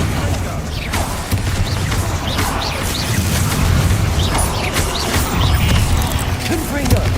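Repeated Confringo fire spells from Hogwarts Legacy crackle and boom in a steady dense barrage, loud and close over a constant rumbling game background, with no pauses between blasts.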